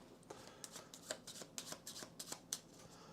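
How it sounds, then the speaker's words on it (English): A deck of cards for the card game Deckers is shuffled up close, a quick run of crisp riffling flutters and soft slaps about a dozen strong, with no talking. "Okay, I have been shuffling this already, but I'll just give it one more shuffle."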